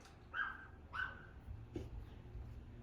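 Dog giving a few brief whimpering yelps and a short bark indoors, faint and close, with soft background noise between the sounds.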